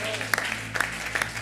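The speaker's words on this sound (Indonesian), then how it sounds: "tepuk tangan." A church congregation at an evening worship service claps briefly, soft scattered hand claps under a room hum, with a few sharper claps standing out.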